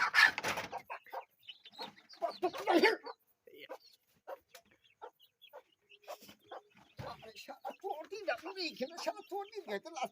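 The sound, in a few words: chicken clucking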